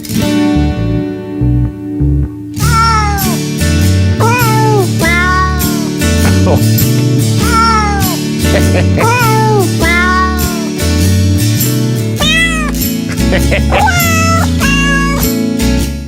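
Meows from a 1993 Christmas CD are set to music: a quiet opening gives way to a loud, bouncy backing track with repeated pitched cat meows arranged as a melody throughout.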